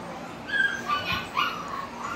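XL pitbulls in a backyard give a few short, high whimpers and whines with a faint bark-like yip, close by and fairly soft against light background noise.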